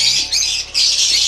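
Loud, harsh squawks from caged pet birds bred for mutations, two close bursts split by a short gap.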